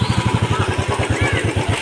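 A motorcycle engine putters close by with a steady, rapid thumping pulse, riding at low speed through a waterlogged area near Kankalitala Temple.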